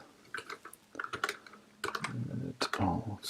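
Rapid typing on a new computer keyboard, irregular bursts of close, crisp key clicks with brief pauses between runs of keystrokes, no voices.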